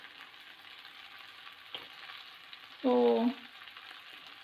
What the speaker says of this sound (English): I am going to mix all these things together